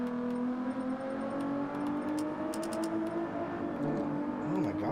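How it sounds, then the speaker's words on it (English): A Ferrari engine in Gran Turismo 7 revs steadily, its sustained harmonic drone rising and falling in pitch at a continuous, fairly loud level with no talk over it. "Is that the Ferrari? Oh. Listen to that thing."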